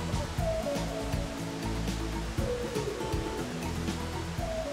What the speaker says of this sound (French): le bruit de la cascade rime avec dépaysement